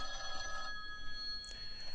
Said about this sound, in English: Alright, that's my phone. I gotta go ahead and answer that.